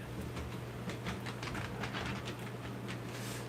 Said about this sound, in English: Look at that train going right in the fucking middle of the mountain.